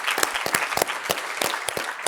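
An audience applauding at a keynote for the Plastic Recycling Show Europe, with brisk, fairly dense clapping from a modest crowd, close and lively throughout.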